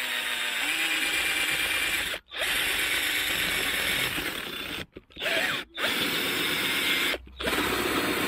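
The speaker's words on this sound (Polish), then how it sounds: "Robimy otwory na twittery." A power drill bores holes for tweeters in a wooden boombox front panel, whirring steadily in long bursts broken by short pauses, close and loud.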